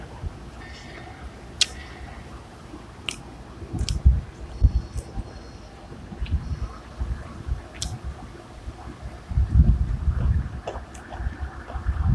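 Wind buffets the microphone outdoors in gusty, uneven rumbles that swell and fade, with scattered faint clicks and knocks and no clear speech.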